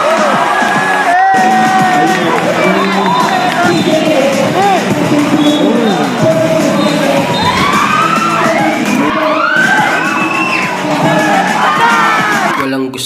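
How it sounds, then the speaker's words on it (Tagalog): A basketball crowd at a Saint Paul vs Little Baguio game roars without pause, a dense and loud wall of shouting, whooping and cheering that swells in waves for the whole stretch. "nagkagulo sa sigawan ng mga manunood"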